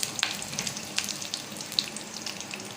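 Dried red chillies and curry leaves fry in oil with a soft, crackly sizzle full of small pops and spits, fairly quiet and free of talk.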